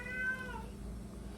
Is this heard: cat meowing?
yes